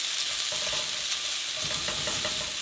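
Tomato paste sizzles and frying crackles steadily in a hot pan while a chicken tikka masala is cooked, with faint stirring scrapes; no voices.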